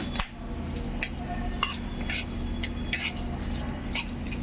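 Whole spices (cinnamon, cloves, green cardamom and black peppercorns) stirred in oil in a pan for a Bengali chicken dish: scattered scraping clicks and light metallic taps over a low, steady background hum, with no talking.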